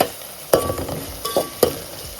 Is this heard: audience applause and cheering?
no